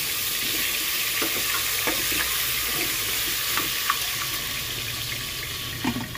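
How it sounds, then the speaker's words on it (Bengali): Potatoes fry lightly in hot mustard oil inside a covered pressure cooker, giving a steady, fairly loud hiss and crackle throughout, with scattered small pops. "সর্ষের তেল দিয়ে, তেলটা গরম হলে আলুগুলো দিয়ে দিলাম। আলুটা আমি একটু হালকা করে ভেজে নেব।"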